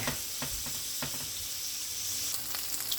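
Steady sizzling of chicken frying in a pot for Jamaican-style shrimp and chicken fried rice, a continuous crackle with scattered pops, close and fairly loud, with no talking.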